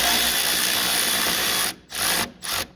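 A ratchet with a deep well socket breaking loose the blower housing bolts on a VG400 engine: a steady, loud mechanical whirring stops, followed by two short bursts of ratcheting close by.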